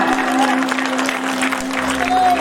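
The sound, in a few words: audience applause at a live concert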